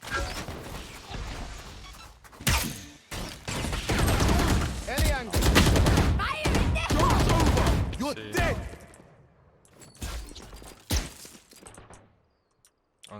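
Rapid gunfire bursts from the shooter game Valorant, dense volleys over several seconds in the middle and a few sharp isolated shots later, fading to near silence at the end.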